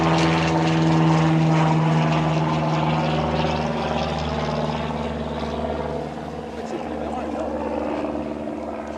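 A propeller plane drones overhead near the Ringling Circus Museum in Sarasota, Florida, its steady engine hum loud and close at first, then slowly fading.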